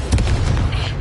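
A Confringo fire-blast spell in Hogwarts Legacy detonates as a loud, booming burst with a dense low rumble that fills the whole brief moment, no voices over it.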